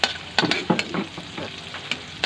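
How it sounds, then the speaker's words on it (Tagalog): Freshly caught river shrimp frying in a pan, with a few sharp stirring scrapes and clatters over a steady crackle, fairly close. "iluluto na natin yung huli natin"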